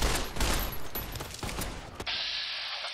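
Gunfire from the video game Fallout: New Vegas comes as a rapid, close burst of shots over about two seconds, followed by a sustained hiss with no talking.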